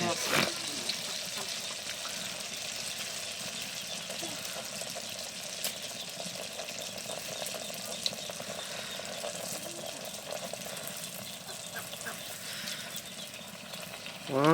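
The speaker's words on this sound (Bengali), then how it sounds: "আর তেলের মধ্যে ফুটতেছে" Rice-flour pitha fry in hot oil with a steady, soft bubbling sizzle throughout, faint and continuous, while someone talks over it.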